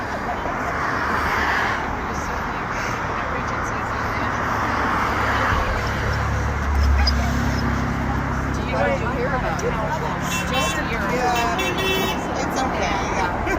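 Street traffic passes at a political rally in Omaha, with engines, road noise and a few car horn toots and honks, mostly under people talking nearby.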